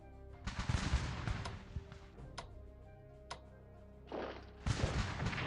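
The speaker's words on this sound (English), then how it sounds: "Defensive artillery." Artillery fire in the strategy game Strategic Command: muffled booming bursts at the start, then a few sharp, isolated clicks and cracks, followed by more rumbling blasts near the end, moderately quiet overall.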